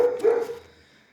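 A single short bark from a dog at night, fairly close and clear, fading quickly into quiet.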